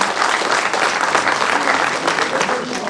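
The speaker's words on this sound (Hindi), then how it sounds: "भरपूर तालियां हो जाए इनके लिए।" Audience applause at a felicitation ceremony held by a career institute in Rajbagh, Srinagar, dense continuous clapping from a large crowd, loud and steady throughout.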